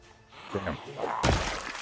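A ball-peen hammer strikes zombies in the video game Project Zomboid, giving one sharp, heavy whack near the end. It cuts through murmured talk and a low game background.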